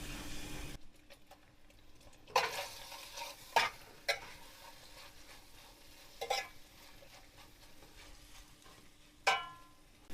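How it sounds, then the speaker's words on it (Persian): Lamb tail fat sizzles softly in a pot over low heat while a utensil stirs and scrapes, with several sharp clinks and bumps scattered over the steady crackle. "این اولای کار مدام هم بزنید، یعنی یه تکونی بدید تا روغن اولیش آزاد بشه"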